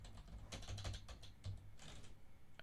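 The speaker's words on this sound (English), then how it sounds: "I have a hard time typing and talking at the same time." Quick bursts of clicking on a computer keyboard, close and fairly quiet, with short pauses between clusters of keystrokes.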